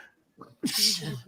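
A single sharp human sneeze: a short intake of breath followed by a loud, bright burst of air, heard up close.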